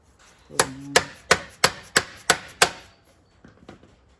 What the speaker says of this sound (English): Tap it with the mallet just a little bit